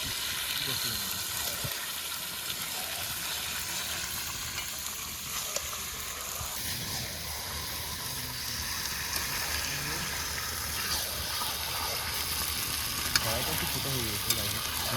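Chicken pieces sizzle loudly in spice masala for a chicken biryani cooked outdoors in a village, with a steady frying hiss broken by scraping stirs throughout.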